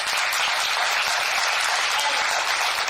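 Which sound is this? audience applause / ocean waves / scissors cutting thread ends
audience applause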